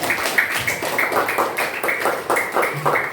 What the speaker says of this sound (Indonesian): beri tepuk tangan untuk nomor 4